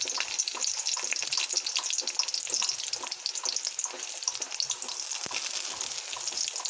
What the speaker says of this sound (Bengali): ফোড়নটিকে আমি একটু এইভাবে ভেজে নেব